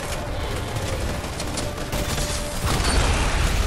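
Rapid bursts of gunfire from the video game Fortnite, dense crackling shots and mechanical clatter running continuously and growing louder toward the end, with no talk over them.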